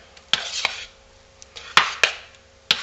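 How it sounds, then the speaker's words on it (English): Hot soap mixture being stirred in a pot, several sharp close knocks and scrapes of the utensil against the pot, irregularly spaced, with quiet moments between. "Let's give it a stir."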